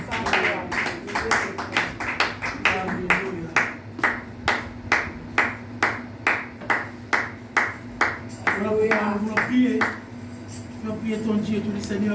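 A church congregation claps in steady unison, sharp evenly spaced beats carrying on for several seconds with voices and singing underneath before the rhythm loosens near the end.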